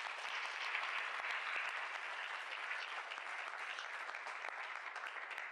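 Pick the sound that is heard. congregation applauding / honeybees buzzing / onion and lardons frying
congregation applauding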